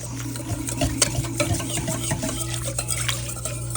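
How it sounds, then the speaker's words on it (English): Resincrete powder being stirred into water in a bowl, a steady close scraping and swishing of the mixing tool against the bowl that runs without pause and with no talk. "I'm just going to add the Resincrete slowly and mix it as I go."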